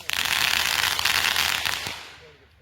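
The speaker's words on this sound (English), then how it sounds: "We're about to do the fireworks." A dense, loud burst of crackling fireworks at an Independence Day show pops and sizzles rapidly for about two seconds, then fades away.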